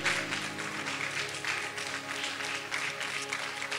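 Sustained applause and clapping from a church congregation, steady and fairly full for the whole stretch, with faint organ-like tones beneath and no clear talk.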